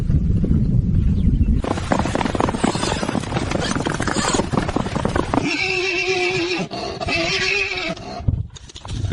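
A horse whinnies loudly in a dusty confrontation with a dragon, its neighs layered over a dense, roaring wash of dramatic sound, with a sharper tonal call rising near the end.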